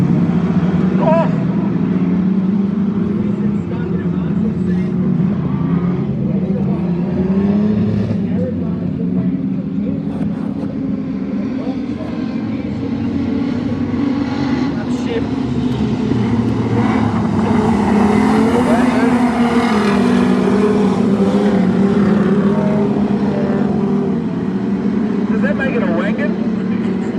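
Standard saloon race cars lapping Sonic Speedway Swan Hill in a heat, engines droning and swelling continuously as the pack circles, with a commentator talking over the noise throughout.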